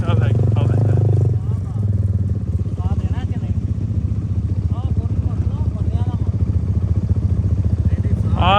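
An off-road motorcycle climbs a rough trail, its engine a continuous loud thrumming drone with rattling, while people talk over it now and then.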